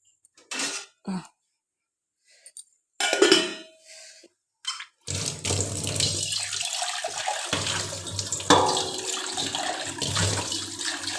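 Water poured into a pot to make tea in a home kitchen, a few short splashes first, then a long steady rushing pour with a hollow ring.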